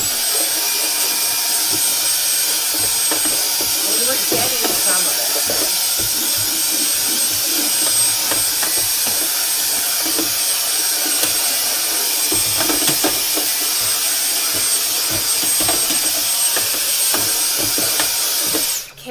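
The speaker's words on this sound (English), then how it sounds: "let's try the vacuum again" A loud vacuum cleaner drones continuously with a high whine and rattling suction noises, and a voice briefly speaks over it.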